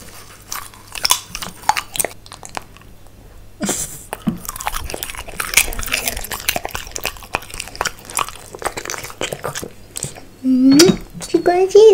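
A French bulldog puppy crunches and chews popcorn up close, with irregular bursts of wet biting and crunching, pauses between mouthfuls, and a person talking intermittently over it.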